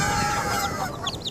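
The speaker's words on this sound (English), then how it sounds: "the chickens huddle together in fear" Farm chickens cluck in a nervous huddle, a dense close flock of fowl sounds with brief rooster-like calls near the end, steady and fairly loud throughout.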